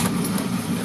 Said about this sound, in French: le moteur démarre très bien